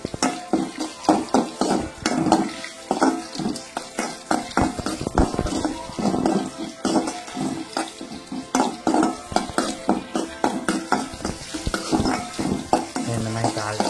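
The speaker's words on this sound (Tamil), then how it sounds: "இந்த மாதிரி தாளிச்சு பெருங்காயம் வந்து லாஸ்ட் போடுவோம்." Tempering spices with asafoetida sizzling in a pan for kodo millet (varagu rice) pongal, with a steady crackling fry mixed with repeated clinks and scrapes of a spoon stirring against the pan.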